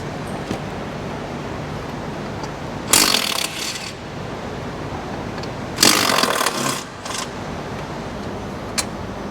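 Two short bursts of a power tool, most likely an impact driver, working dash bolts loose inside a 2023 Ford Tremor truck cab, each burst lasting about a second, close and loud over a quiet background.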